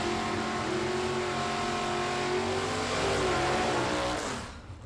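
Drag race cars at a Super Pro bracket event, one of them a Mustang, launch off the green light together, their engines a loud, sustained roar that fills the air before dropping away near the end.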